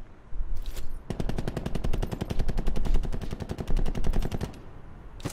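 Rapid automatic gunfire in a multiplayer shooter game as zombies are gunned down, a fast, even string of loud close shots lasting a few seconds, bracketed by single isolated reports.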